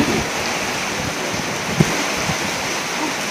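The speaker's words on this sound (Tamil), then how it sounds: "சூப்பராக மழை பெய்யுது" Heavy rain pours steadily onto a rooftop terrace in Madurai, a close, even hiss of water with one brief thud partway through and no voices.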